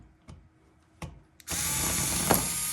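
A power screwdriver backs out screws from a 3D printer's Y-axis motor: a few short clicks and taps, then a sustained close motor whine.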